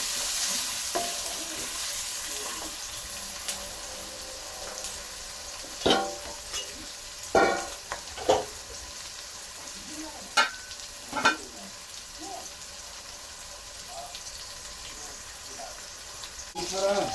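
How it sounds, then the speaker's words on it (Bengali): Onions fry with green chillies in a pan under a steady close sizzle, while a spatula stirs them with scattered scraping clinks against the metal. "নেড়ে দিচ্ছি পেঁয়াজগুলো।"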